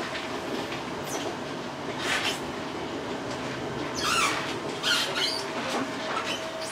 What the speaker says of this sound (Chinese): 看一下外头，火车要进站。